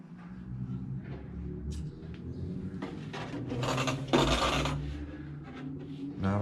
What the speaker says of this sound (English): So the front, I'm just going to trim off this little excess